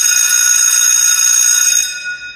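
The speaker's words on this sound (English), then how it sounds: "There's the bell." A bright, sustained metallic bell rings loudly with a rapid trilling shimmer, holding steady before tapering off toward the end; no speech accompanies it.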